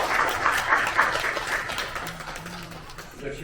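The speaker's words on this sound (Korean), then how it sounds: "열심히 박수 쳐주시네요" Audience applause at a Korean National Assembly family-protection conference, a sustained wash of clapping that gradually fades, with a brief voice surfacing near the end.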